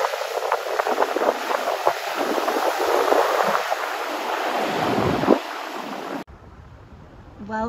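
Ocean surf at Nazaré beach in Portugal, on a calm day: a steady wash of waves mixed with heavy wind buffeting the microphone, ending in quieter ambience.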